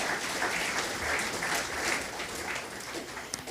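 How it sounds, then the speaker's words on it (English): A conference audience applauds its panelists with a sustained, even wash of many hands clapping, moderately loud and continuous across the room with no voices over it. "Please give a round of applause for our panelists."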